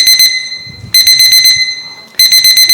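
An alarm goes off during a Right to Repair hearing at the Boston State House, sounding three loud bursts of rapid, shrill electronic beeping separated by brief pauses.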